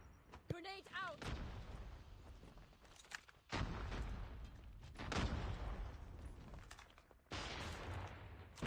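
Rapid bursts of gunfire and a grenade blast from a Call of Duty Mobile tournament match, loud broadband volleys in several separated bursts, with a voice briefly heard near the start.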